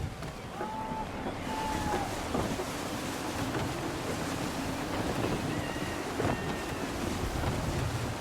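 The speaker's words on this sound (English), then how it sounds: "Gusty winds can be difficult to manage" In the Assassin's Creed 3 video game, gusty wind roars steadily over surf and rushing water while a sailing ship moves under sail. A voice can be heard faintly beneath the constant rumble.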